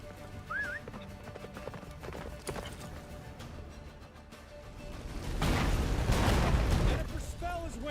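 Roach the horse galloping in The Witcher 3, rapid continuous hoofbeats with a short whinny early on, then a loud roaring rumble swelling over the gallop, steady throughout.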